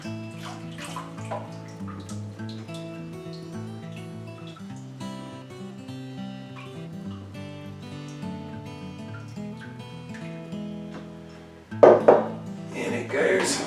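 Hot water just off the boil is poured over malt extract while homebrewing a Munich pale ale, a short splashing burst near the end that rises over background music and talk.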